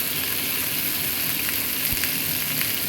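Pumpkin and soybean curry sizzles steadily in a pan while being sautéed, a continuous close hiss of frying with faint stirring scrapes and no talking.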